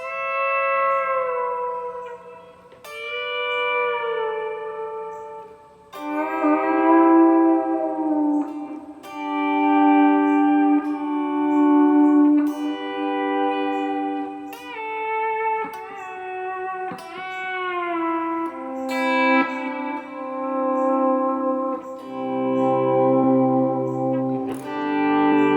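A Telecaster electric guitar plays slow, sustained chords and notes drenched in a big, washy reverb, each strum ringing out and blending into the next for an atmospheric, spacious sound with no talking.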